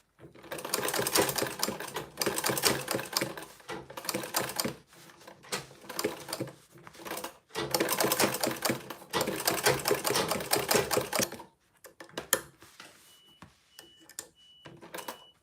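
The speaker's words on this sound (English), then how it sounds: "So right now I'm sewing with a 1/4 of an inch." A sewing machine bastes a bag with a quarter-inch seam, running in several loud, rapid bursts with short pauses, then falling to faint handling sounds near the end.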